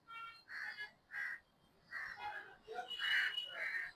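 Crows caw above a garden, a series of harsh separate calls from a few birds, moderately close, with short gaps between and overlapping calls toward the end.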